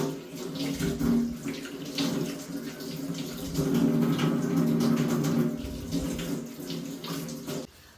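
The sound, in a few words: washing carrots under running water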